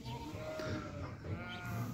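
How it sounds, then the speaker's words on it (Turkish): Fattened meat sheep bleating as they are loaded for slaughter: several overlapping, fairly faint bleats and calls over a steady background of livestock noise, with no talking. "Koyun yüklemesi de artık."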